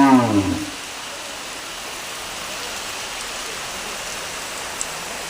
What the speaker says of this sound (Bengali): আমাদের এখানে প্রচণ্ড পরিমাণে বৃষ্টি হচ্ছে